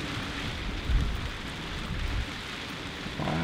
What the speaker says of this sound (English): along with the wind it's now brought rain